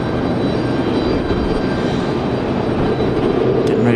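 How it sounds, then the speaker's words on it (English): An Air France Boeing 787 Dreamliner's jet engines give off a steady, broad roar at an airport, moderately loud and unbroken throughout with no talk over it. "As you see, the 787 Dreamliner of Air France."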